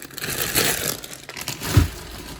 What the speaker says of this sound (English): Apologise for all the rustling.